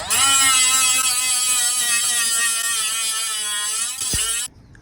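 A power tool cuts into the bumper of a 2005 Subaru STI during a fog light install, with a loud, sustained high buzzing whine that dips near the end and then cuts off abruptly.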